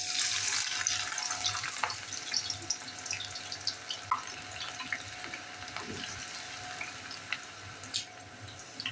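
Steady sizzling and hissing of chopped onion frying in hot oil for fried onions, a continuous close crackle with faint pops throughout.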